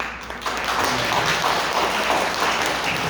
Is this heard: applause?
yes